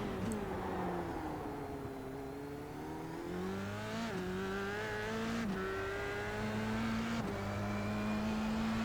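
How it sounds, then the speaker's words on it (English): F3 race car engine in the iRacing sim at Sonoma, a steady high whine rising and dropping through gear shifts as the car exits a turn, with faint tyre scrub underneath, continuous and fairly loud, no talk. "you could hear the tyres starting to lose traction as he came out of turn 2 there"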